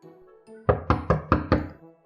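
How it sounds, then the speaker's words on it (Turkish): Five firm, evenly spaced knocks on a door ring out close and loud after a soft lead-in, each thud decaying quickly. "Ah, kapı çalıyor."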